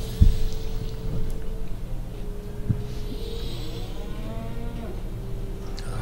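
Cow mooing in the Sam & Max: The Devil's Playhouse video game, a long, low, drawn-out moo with a steady tone, fairly close over a soft background hum and a couple of faint thumps.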